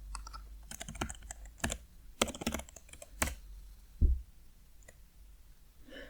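Keys clatter on a computer keyboard as Python code is entered, in irregular bursts of quick clicks with pauses between, close and moderately loud in a quiet room.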